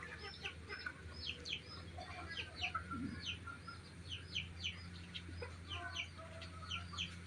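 Chickens cluck and chirp on a small backyard farm with chicks, turkey and a dog nearby, a steady scatter of close clucks and peeps over a low ambient hum.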